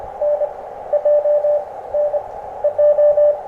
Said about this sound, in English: sounds like a straight key